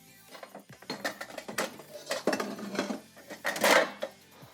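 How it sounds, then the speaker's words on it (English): A wok is pulled from a stack of pots and pans in a home kitchen, producing a busy run of metallic clanks, scrapes and rattles, close and fairly loud, with a louder clatter toward the end. "I'm gonna grab my wok."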